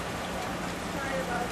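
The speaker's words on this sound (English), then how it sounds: "Raining again. Now it's absolutely bucketing down." Heavy rain buckets down outside, a dense, loud, continuous hiss of downpour with no breaks across the short stretch.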